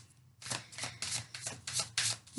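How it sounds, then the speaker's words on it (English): A deck of tarot cards is shuffled close by in several riffling bursts, papery rasps that rise and fall, with no talking. "I'm going to shuffle again, but let's see what energy we can come up with on the bottom and the top of the deck."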